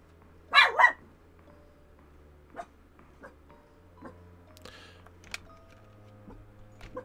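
A dog gives a quick double bark early on, loud and close, followed by a quiet room with faint scattered clicks and a low steady hum.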